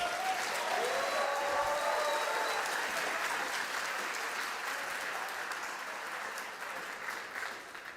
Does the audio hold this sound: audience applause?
yes